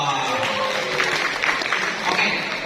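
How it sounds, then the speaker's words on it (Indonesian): An audience at a summit event in a Jakarta hotel gives a short, even round of applause, with voices talking over it. "Tepuk tangan dulu dong"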